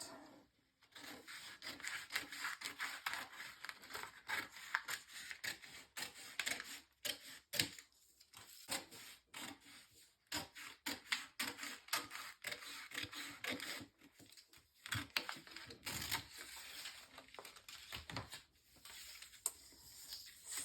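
Scissors cut wrapping paper along a traced template for a handmade advent bunting, giving a quiet series of close snips and paper rustles with brief pauses and no talking.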